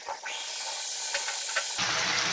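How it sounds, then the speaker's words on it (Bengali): Poa fish fry in a hot pan, a bright continuous sizzle and hiss with brief crackles, which swells louder near the end. "মাছগুলোকে আমি ভেজে নিই, মাছগুলোকে কষিয়ে রান্না করব।"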